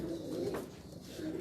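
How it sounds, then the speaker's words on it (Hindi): A pigeon cooing on a rooftop, a soft low throaty coo rolling through a brief moment, faint and somewhat distant. "ये टाली वाला कबूतर है जी सामने नजर आ रहा है आपको"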